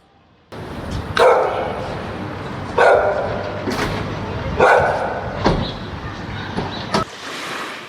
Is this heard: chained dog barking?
yes